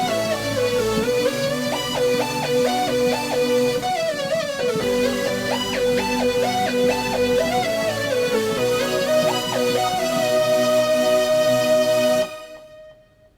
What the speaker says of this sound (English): After the bridge, we have a really cool instrumental that we get to play, and this is where the keyboard really gets to shine